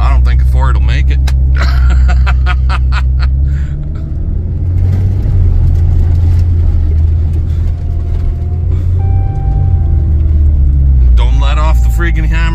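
A Dodge truck bounces along a rough, ungraded farm road, its engine and tires producing a heavy low rumble throughout, with rattles and bumps over it and people talking inside the cab.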